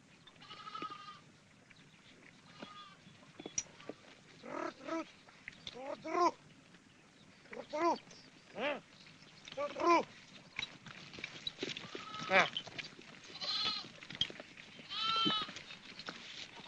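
Sheep bleating repeatedly in a rural setting, a series of loud, wavering calls from several animals at irregular intervals, near and clear over quiet background.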